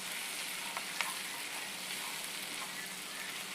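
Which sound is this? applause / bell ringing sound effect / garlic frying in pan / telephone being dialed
garlic frying in pan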